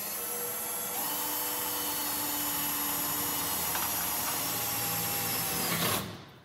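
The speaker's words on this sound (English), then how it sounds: "So we come in here and we begin to drill." A drill runs continuously at close range with a steady high whine and grinding, cutting a hole in metal for several seconds before spinning down at the end.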